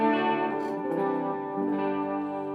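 An ESP LTD EC-256 electric guitar on the bridge pickup rings out with distorted sustained chords, shimmering Afterglow chorus and Echo Brain delay trails, loud and alone with no voices.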